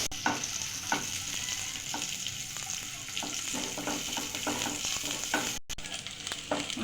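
Cashews, raisins and grated coconut fry over low heat in a pan for jarda pulao, giving a steady soft sizzle with repeated light stirring taps and no talk.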